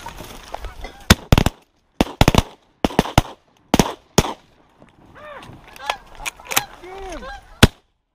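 Shotgun blasts at geese during a hunt, several loud sharp shots in quick pairs and singles, with geese honking close by between and after the shots.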